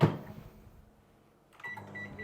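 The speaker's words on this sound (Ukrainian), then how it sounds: "ми її приготуємо дуже швидко в мікрохвильовці ставимо на максимальну" A microwave oven set to maximum power cooks corn on the cob in a bag: a loud clunk opens the clip, then a lull, then a steady electric hum with a faint high whine starts up and runs on.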